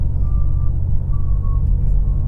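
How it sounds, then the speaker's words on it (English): A truck's reversing alarm beeps in slow, evenly spaced tones while it backs up, heard over a loud, steady rumble of traffic and engine noise. "The truck's backing up without looking."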